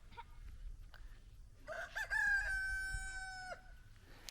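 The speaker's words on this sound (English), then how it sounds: "all the roosters are telling that it's the morning" A rooster crows once, a long drawn-out cock-a-doodle-doo, close by, with faint clucking and farmyard noise around it, on a farm in Margaret River, Australia.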